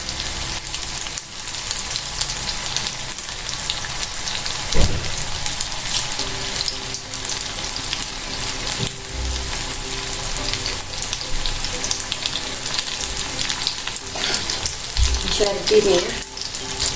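Paneer pakoras frying in hot oil, a dense, continuous sizzle with crackling bursts and occasional clinks of a utensil stirring, close and loud, with a brief spoken word.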